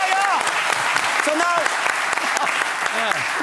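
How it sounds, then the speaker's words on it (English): A studio audience on a Dutch talk show breaks into steady applause, close and full, with excited voices cheering over the clapping throughout. "then we all start applauding."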